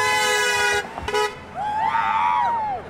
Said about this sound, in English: There, that was a good honk!